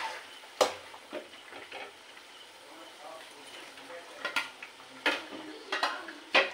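Small puti and ilish fish slipped into a simmering eggplant curry, with scattered clinks and scrapes of utensils against the pot over a low bubbling sizzle, close and moderately loud.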